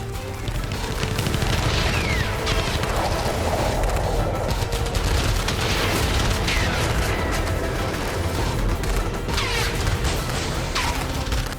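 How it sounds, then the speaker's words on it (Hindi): Rapid bursts of gunfire aimed at a speedboat crackle continuously over a dense, roaring background, loud and sustained without pause. "इसे रोकने के लिए गोलियां दागी जा रही हैं।"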